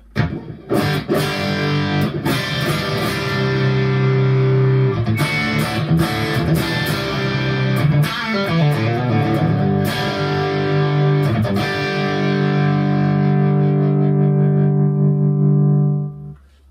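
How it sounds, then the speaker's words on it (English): A Duesenberg electric guitar on the bridge pickup plays distorted chords and single notes through a Matchless amp patch with a light reverb tail, loud and up front, ending on a long sustained chord. "I'm on a matchless patch, just the amp and an impulse response, tiny bit of reverb at the end of the chain, and I'm on the bridge pickup."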